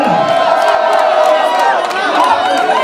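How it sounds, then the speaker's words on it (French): Crowd at a charity gala in Paris cheering and whooping loudly with a continuous roar of voices, close and sustained, with some shouting mixed in. "Est-ce qu'on peut applaudir très fort Guylaine? S'il vous plaît, faites du bruit."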